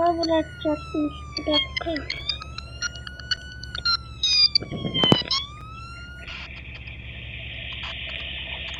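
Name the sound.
ambulance siren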